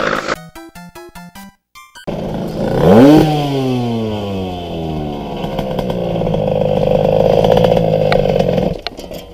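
A go-kart engine runs on a public road, starting with a few sharp clattering pops before revving up loud and close, then holding a steady buzzing, rising drone for several seconds before cutting off.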